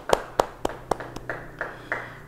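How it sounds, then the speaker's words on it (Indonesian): A church congregation applauds during a Bible study service, heard as a series of about eight separate, fairly sharp claps at an uneven pace over a steady low hum, reasonably close. "Beri tepuk tangan bagi dia."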